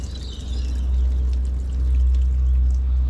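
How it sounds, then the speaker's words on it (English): Clean water flows through the cooling system of a Subaru WRX during a coolant flush, a steady pouring rush with a low hum underneath, continuous and fairly loud. "just some clean water going through it."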